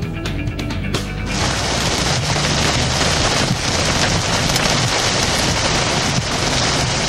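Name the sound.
heavy rain pounding on a car windshield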